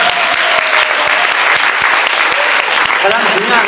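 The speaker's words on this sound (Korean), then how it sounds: "박수 한번 쳐주세요." An audience at a Korean network marketing business lecture bursts into dense, loud applause, with rapid overlapping claps that hold steady for several seconds.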